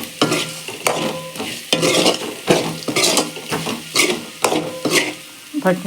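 A chilli-pepper and spice mixture fries in oil in a pan while a spoon stirs and scrapes against the metal in regular strokes, close and clear, the sizzle running continuously under each scrape.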